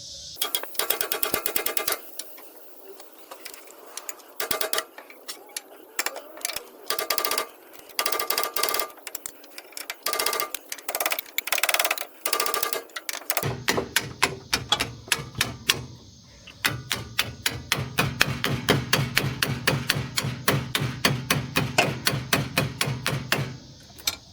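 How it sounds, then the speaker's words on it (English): A hammer strikes a steel sway bar on a square-body truck during a sway-bar disconnector install, giving bursts of sharp metallic blows in irregular clusters, followed by a long run of rapid, evenly spaced clattering impacts. "A hammer might have to persuade the sway bar to drop down."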